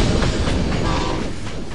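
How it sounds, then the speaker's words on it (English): A passenger or freight train rolls along a railway track in the United States, a dense, steady rumbling roar of wheels and cars heard close and loud for a couple of seconds, with no voices. "keep the trains moving up and down the track"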